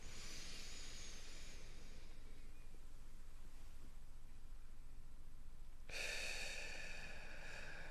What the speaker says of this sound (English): 3 more breaths together